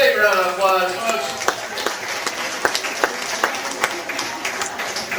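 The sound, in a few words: audience applause at the studios backlot tour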